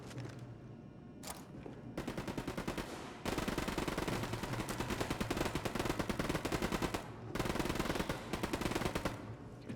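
Sustained automatic gunfire in the open-world shooter Ghost Recon Wildlands, loud rapid bursts with brief pauses, overlapping volleys from several weapons close by and no talking.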